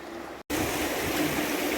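A small river flows steadily, giving a continuous broadband rushing wash, close and even, briefly cut by a split-second gap of silence near the start.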